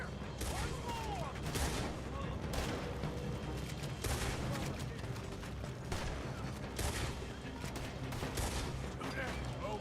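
Gunfire in the video game Red Dead Redemption, with repeated sharp shots and bursts over a continuous noisy battle background, voices shouting now and then.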